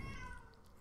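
A small cat gives one short, faint meow, a brief plaintive cry heard alone in a quiet room.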